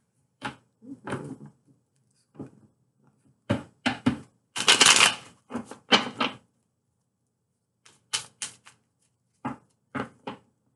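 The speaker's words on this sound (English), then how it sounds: "Okay, one more shuffle and we're good." Cards are shuffled in several quick, crisp bursts separated by short pauses, close by, with no talking.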